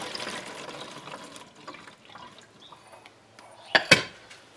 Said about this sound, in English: You can reuse the stuff, so I pour it back into the bottle, hopefully without spilling everything.